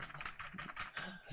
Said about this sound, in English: I don't know what the fuck I'm typing.